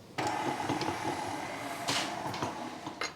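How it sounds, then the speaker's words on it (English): An electric stand mixer cutting cold diced butter into flour: a continuous loud mechanical whirring and rattling from the motor and beater, with a few sharper clanks and knocks scattered across the few seconds. "I'm going to let my mixer here cut the butter into the flour"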